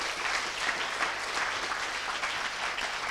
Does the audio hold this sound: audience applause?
yes